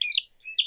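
Young chicks, growing their wing feathers, give two quick, bright chirps close by, separated by a short pause, with no other sound around them.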